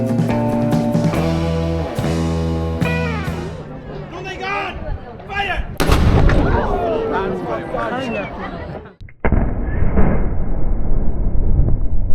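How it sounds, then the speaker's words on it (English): Loud, booming blasts from the Saluting Battery cannons in Valletta, Malta, fired at noon, sound over a busy background of crowd chatter and music. "That is the saluting battery. It happens every day at 12."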